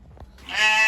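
A single sheep gives one loud, close bleat in a barn, rising into a nasal, wavering cry.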